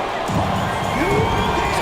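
Arena crowd in the basketball video game NBA 2K23 cheering and applauding steadily in a dense, continuous roar, with a few louder whoops rising out of it and no commentary over it.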